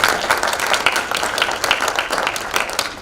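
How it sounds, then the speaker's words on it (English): A round of applause for panelists at an education funding event, a continuous dense clapping crowd in a hall, moderately loud and even throughout with no voices over it. "Could we give our panelists another round of applause"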